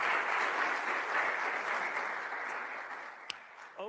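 An audience at a public evening event about the Latta v. Otter marriage case claps steadily for nearly four seconds, a dense, even wash of applause that tapers slightly near the end.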